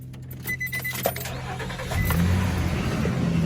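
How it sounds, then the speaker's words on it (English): A 2007 Nissan Frontier engine idling smoothly after a transmission fluid change, with light clicks and handling noises at first, then a steadier low engine hum that swells slightly in the second half, close and fairly quiet. "Engine is beautiful. No noises, no rattles, no nothing."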